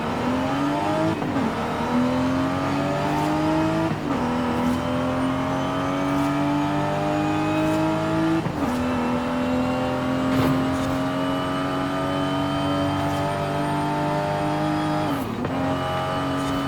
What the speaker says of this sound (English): Alright, let's hear the cabin.